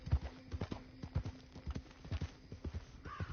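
Horse hooves clip-clop at a steady walking gait in the video game Red Dead Redemption 2, a regular series of close, clear thuds with a faint background hum and no talking.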